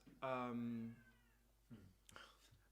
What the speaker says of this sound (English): sorry, this cat is providing great entertainment